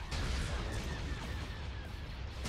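Cannons fire in the Star Wars strategy game Naboo Blockade, a dense low rumbling barrage of booms rolling continuously at moderate volume.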